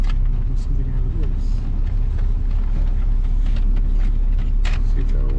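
Steady low engine and road rumble fills the interior of a Honda Civic EG hatchback while driving, continuous and close, with occasional small knocks and rattles.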